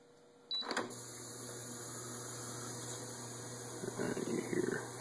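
Dishwasher starting a wash cycle: a click and whir, then a steady low mechanical hum and pump drone, faint and close, with a few splashy surges near the end.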